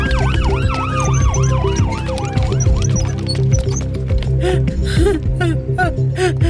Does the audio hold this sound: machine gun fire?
no